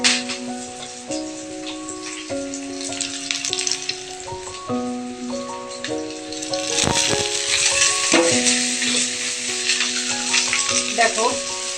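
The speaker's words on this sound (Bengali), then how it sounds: "আর এদিকে দেখো আমি কাঁচা পেঁয়াজগুলোকে এখন দিয়ে দিচ্ছি তেলের মধ্যে।" Raw onions drop into hot oil for a Bengali fish dish, building into a steady bright sizzle with occasional clatter, under a sustained musical tone.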